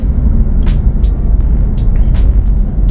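Inside a car driving on a Dubai road behind a slow truck, a steady low engine and road rumble fills the cabin, with a few faint higher clicks and hisses and no talking.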